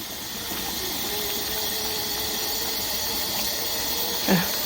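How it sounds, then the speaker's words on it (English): Steam hissing steadily from a T-Fal pressure canner processing pinto beans, a continuous, close hiss with faint mechanical hum beneath and a short gurgling burst near the end. "There is a little steam coming off one side."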